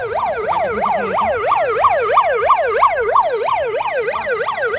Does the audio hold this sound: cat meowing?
no